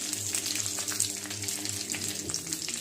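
Mustard seeds, curry leaves and garlic frying in hot oil in a kadai, giving a steady close sizzle with light crackling throughout.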